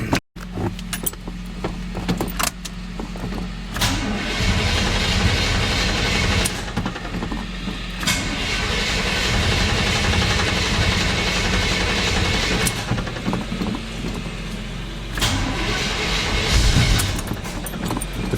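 A seven-cylinder engine cold-starts on a chilly morning, cranking and catching into a rough, loud idle that surges and dips unevenly, with a few sharp clanks and knocks breaking through the running noise.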